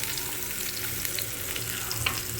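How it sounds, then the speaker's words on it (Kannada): Chopped onion frying in hot oil in a kadai for butter chicken, a steady close hiss and crackle with faint stirring scrapes throughout, no voices. "ಎಣ್ಣೆ ಒಂದು ಸ್ವಲ್ಪ ಕಾದ ನಂತರ ಅದಕ್ಕೆ ಒಂದು ಸ್ವಲ್ಪ ಕಟ್ ಮಾಡ್ಕೊಂಡಿರೋ ಈರುಳ್ಳಿ"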